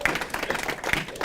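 An audience applauds for the mayor at a book discussion, a brief, steady patter of many hands clapping at a moderate level.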